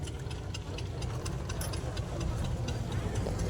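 Tractor engine running steadily during threshing of groundnut (mandavi) on a farm, a continuous low rumble with mechanical clatter, close and unbroken throughout.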